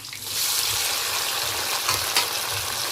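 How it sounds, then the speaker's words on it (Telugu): Onions and cashews fry in a pan with cinnamon and cloves as the base for a chicken curry. A continuous close sizzle and crackle holds steady throughout, with faint stirring scrapes. "ఇవి కొంచెం లైట్గా బ్రౌన్ కలర్ వచ్చేంత వరకు ఫ్రై చేసుకోవాలి."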